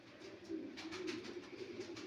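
Soft, low cooing of pigeons repeats steadily against a faint hiss, with a few brief brighter flutters mixed in.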